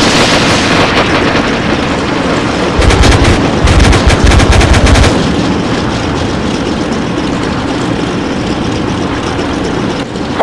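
Animated P-47 Thunderbolt fighter firing its guns in long, loud rapid bursts, with a denser, heavier stretch in the middle over continuous engine roar.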